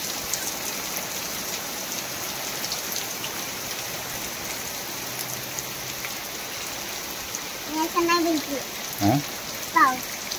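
The first monsoon rain falls in Konkan as a steady, even hiss of downpour on surfaces. A few voices speak briefly near the end.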